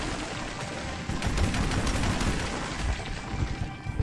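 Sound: gunfire in the video game Metro 2033

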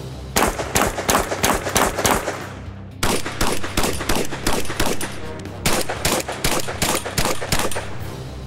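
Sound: shotgun shots knocking down steel plates

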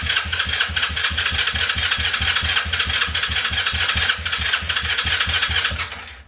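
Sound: 110/125 cc quad bike engine starting

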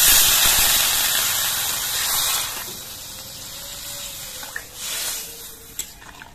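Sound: pouring broth into frying fish curry pan

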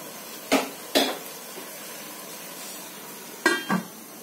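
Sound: lid placed on pan of cooking boal fish

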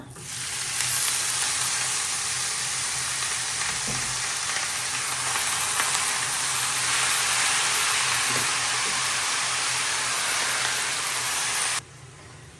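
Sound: radish frying in a pan with lentil dumplings and dried chili

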